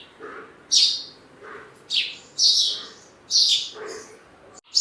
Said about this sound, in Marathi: इकडे पूर्ण असं तुम्हाला पण चिमण्यांचा आवाज येत असेल